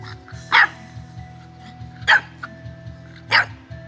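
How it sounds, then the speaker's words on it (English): Three sharp, high puppy barks spaced evenly apart, close by, over a low steady hum. "See, Cody, that's a puppy."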